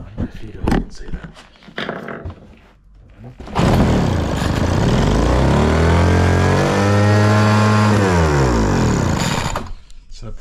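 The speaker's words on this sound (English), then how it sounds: "the plug lead was what killed it just then, but it's definitely running very high on the idle side of things" A small petrol engine, just restarted after its spark plug lead was refitted, roars up from talk into a loud, steady high idle that holds for several seconds with rising and falling harmonics before cutting off.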